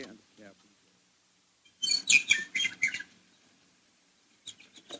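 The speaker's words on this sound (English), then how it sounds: "The sun was shining, the birds were singing" Birds chirp and tweet as a sunny-morning effect in a radio drama, a dense burst of bright, high calls in the middle with a few fainter chirps near the end, set against quiet.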